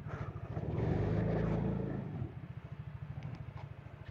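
A motorcycle engine runs close by at night near a cemetery, swelling to a louder throaty drone and then settling back into a steady, pulsing idle.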